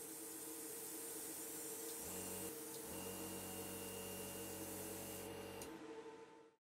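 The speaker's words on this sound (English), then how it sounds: "I'm going to spray on some pure white directly from above to provide our brightest highlights." A spray can mists pure white paint onto a Rune Golem miniature from above, giving a loud, steady hiss with a brief pause and a short burst before it cuts off, with no talking.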